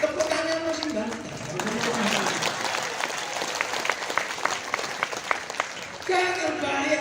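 An audience claps and cheers at an Indonesian religious talk, a brief burst of dense applause rising and fading beneath a man's continuing speech.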